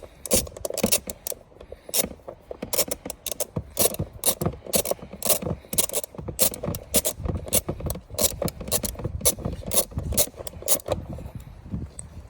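A ratchet with a 10mm socket removes the seat bolts on a 2018 Honda CRF125F dirt bike. It gives rapid, close, repeated clicking bursts with metallic scrapes and no talk.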